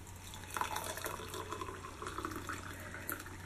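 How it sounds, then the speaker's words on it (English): Hot water pouring into a cup of tea, a steady close liquid stream with broadband splashing under a constant low hum, no talking. "pour my hot water into my tea"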